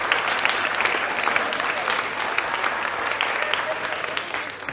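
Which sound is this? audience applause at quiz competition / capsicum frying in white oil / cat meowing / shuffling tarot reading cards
audience applause at quiz competition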